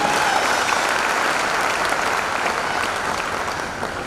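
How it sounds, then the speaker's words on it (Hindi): Audience applause at a diamond-ship achievement speech, a steady, loud wash of many hands clapping from a large crowd, sustained throughout and slowly easing toward the end. "एक बार जोरदार तालियां दीजिए।"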